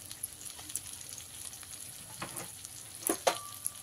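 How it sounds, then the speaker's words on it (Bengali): Potatoes fry with spices in a pan, giving a soft continuous sizzle with faint scraping and stirring clicks, low and close. "আলুটাকে ভালো করে মশলার সঙ্গে দিয়ে ভেজে নিয়েছি।"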